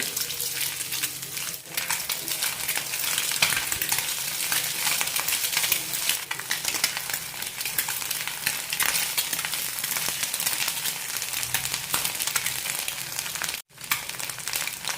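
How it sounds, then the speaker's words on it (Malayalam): Chopped garlic roasts in a pan over a medium flame, a continuous close hissing sizzle with stirring scrapes that briefly drops out near the end. "മീഡിയം ഫ്ലെയിമിലിട്ടാണ് ഇപ്പോൾ റോസ്റ്റ് ചെയ്തുകൊണ്ടിരിക്കുന്നത്"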